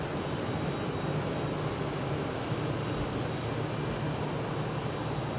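Airliner taking off at Phoenix Sky Harbor airport, heard as a steady, broad jet roar with a low engine drone, holding level and continuous throughout with no voices.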